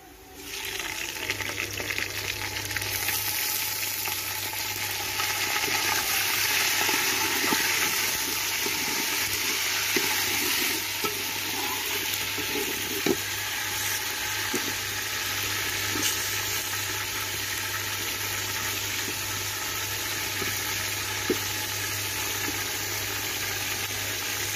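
Mutton frying in oil with light-browned onions for biryani, a steady low sizzle with faint bubbling that holds evenly throughout, with no talking.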